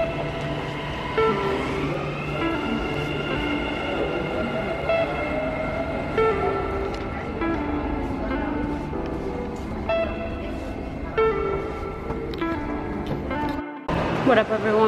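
Riding a metro train in Dubai, a steady rolling rumble with high whining tones fills the carriage, with a few brief clunks and a short drop out near the end, while people talk underneath.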